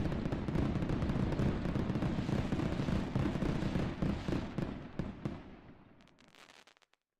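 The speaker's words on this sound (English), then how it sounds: "And were the fireworks too loud or too quiet?" Fireworks sound effect played as a loud test: a dense barrage of crackling bursts and sharp pops that thins out and fades to silence near the end, with no voices.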